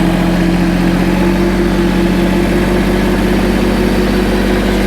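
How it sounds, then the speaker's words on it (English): A tractor engine idling at close range, a steady loud low rumble with a constant hum and slight vibration, unbroken and without voices. "Shut the tractor down in a minute."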